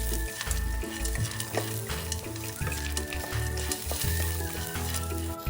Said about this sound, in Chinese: 将所有香料炒匀。